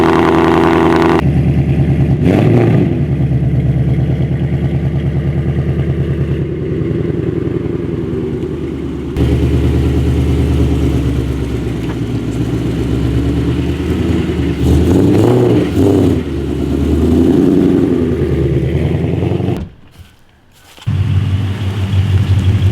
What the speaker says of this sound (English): We got to move some cars around